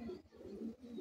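A male pigeon coos softly nearby in repeated low, rolling phrases with brief pauses between them, faint and without speech.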